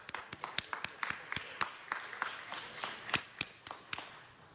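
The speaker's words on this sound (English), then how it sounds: "Let's give them a round of applause." Scattered, sparse applause from a small audience at a meeting, individual claps sounding as distinct sharp taps, fairly faint and distant.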